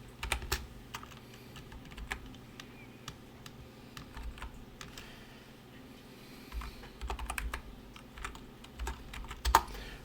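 Someone types a password on a computer keyboard, with soft rapid keystrokes coming in uneven bursts and pauses over about ten seconds, close and quiet with no talk.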